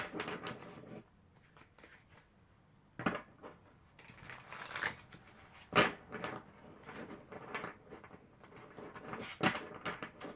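Oracle du soleil cards are shuffled by hand, giving soft, quiet papery rustles and riffles in uneven bursts with a few sharper flicks, close by and without talk.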